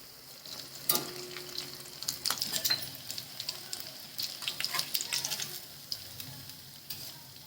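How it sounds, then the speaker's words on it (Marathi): Green chili fritters for a fasting meal fry in hot oil with a steady, close sizzle, broken by sharp crackles and spits that come in brief bursts, with no talking. "अशा प्रकारे सर्व मिरच्या मी तळून घेते उपासाच्या"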